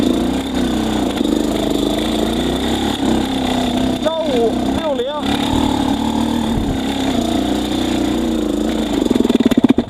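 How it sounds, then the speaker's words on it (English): Motorcycle fitted with a Keihin PWK Airstriker 36S carburetor and JD jetting kit running steadily up close, a loud continuous engine drone with a brief rise in pitch at the end. "The engine stalled again at 1800 RPM."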